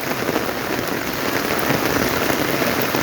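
Steady afternoon rain pours down in a dense, even hiss of drops striking surfaces, close and continuous with no voices.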